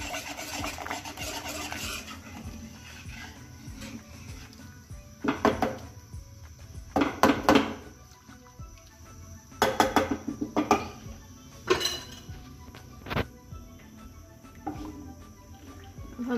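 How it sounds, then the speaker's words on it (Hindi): A whisk scrapes and swishes through rice and milk in a pot for carrot kheer, heard as quiet intermittent bursts of rasping strokes separated by pauses, with no talking. "हमने इसको चलाते रहना है मुस्तकिल, ताकि ये नीचे चावल बैठ ना जाए।"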